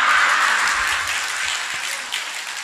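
An audience claps together, a dense, fairly loud patter of many hands that holds steady and fades slightly toward the end.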